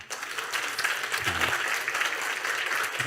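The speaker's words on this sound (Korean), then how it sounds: "우리 박수로." A church congregation applauds a couple just back from their honeymoon, a warm, steady round of clapping from many people at moderate volume, with faint low voices briefly audible beneath it.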